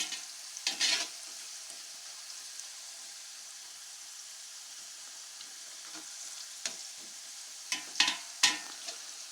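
Carrots fry over a high flame, with a steady, hissing sizzle running throughout and a few brief clattering stirs against the pan, heard close with no speech.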